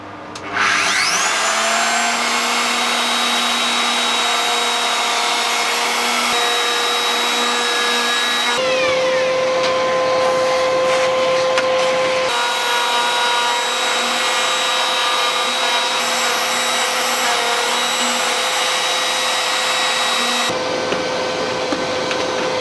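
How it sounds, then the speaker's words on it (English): A handheld router fitted with a cove bit and guide bush cuts a templated shape into wood, giving a loud, continuous high-pitched whine that shifts in pitch as the cut changes. "I'm then using a cove bit on the router with a guide bush fitted to cut out the templated shape"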